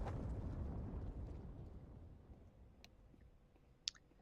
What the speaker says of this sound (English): Leo is going to die to the bomb explosion.